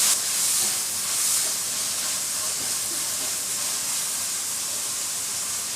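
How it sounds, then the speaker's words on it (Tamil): Large onions sizzle as they sauté in a pan for a potato kurma, a steady close hissing fry that runs unbroken with no voices over it. "பெரிய வெங்காயத்தை சேர்த்துட்டு நல்லா வதக்கிடலாம்."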